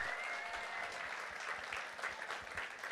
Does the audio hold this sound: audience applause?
yes